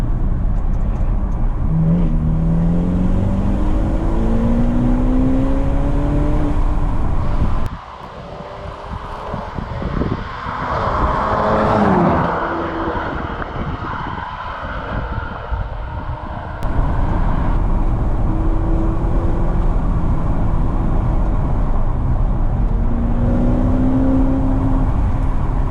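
Ferrari Portofino engine running loud and close while driving, a steady throaty drone with rising revs and a dip partway through, heavy wind buffeting over it, no talking.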